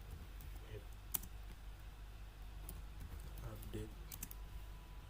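A computer keyboard is tapped to enter a command into an Ubuntu terminal, giving faint, close, irregular key clicks in short bursts over a low background hum.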